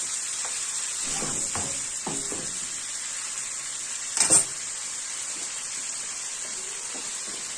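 Liver seasoned with black pepper sizzles in a frying pan, a soft steady hiss broken by a few scraping stirs and one brief louder clatter midway.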